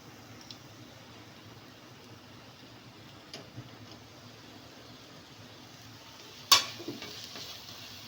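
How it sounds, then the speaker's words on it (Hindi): Blended onions frying in a pot until golden brown for chicken makhni, giving a quiet, steady sizzle with a few faint ticks and one sharp clank of a utensil near the end. "प्याज को गोल्डन ब्राउन होने तक हम इसमें पकाएंगे अच्छी तरीके से"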